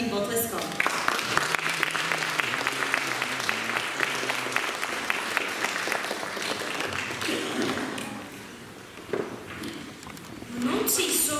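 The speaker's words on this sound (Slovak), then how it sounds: "Tak privítame veľkým potleskom." Audience applause at a school Christmas concert by music and literary-drama students, steady dense clapping filling the hall for several seconds, then easing off before a brief return near the end.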